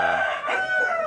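Fighting rooster after a cockfight, eye injured by a spur, gives a short loud crow that breaks into clucking, close and clear without speech.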